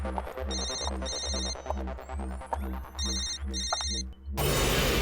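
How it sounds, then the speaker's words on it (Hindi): A mobile phone ringing somewhere nearby, its electronic ringtone repeating in steady beeping bursts over a deep pulsing tone in a horror drama scene, cut off by a sudden burst of loud noise. "अरे अमित का फोन तो यहीं कहीं बज रहा है"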